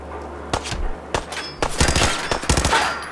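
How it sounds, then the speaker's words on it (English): Gunfire in Fallout 4 at the Corvega Assembly Plant: sharp, loud shots, first a few spaced cracks, then rapid bursts of automatic fire with no talk. "who's shooting at me now?"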